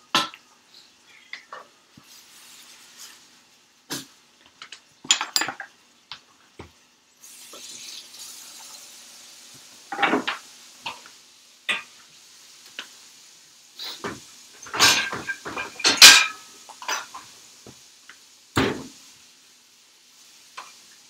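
Food sizzles and crackles in a pan with steady frying hiss, broken by sharp clinks and scrapes of utensils against cookware.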